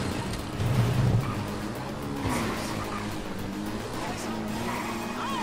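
A car in GTA driving and skidding, with steady engine drone and a brief tire squeal early on, heard moderately loud with faint voices underneath.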